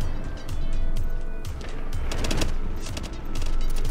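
Gunfire from a weapon in The Division, a series of loud shots in the game with a noisy background and no speech.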